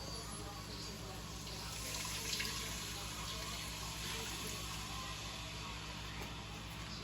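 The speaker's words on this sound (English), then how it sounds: "We're gonna add in 3 cups of water." Water runs steadily for several seconds, a continuous splashing pour into a cooking pot, with faint room noise and no talking.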